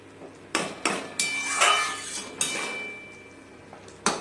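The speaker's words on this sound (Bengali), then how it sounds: "একটু আমগুলোকে গালিয়ে দিচ্ছি খুন্তির সাহায্যে" A spatula mashing raw mangoes in a pan for chutney gives several sharp, irregular knocks and scrapes against the metal, close and fairly quiet, with short pauses between strokes.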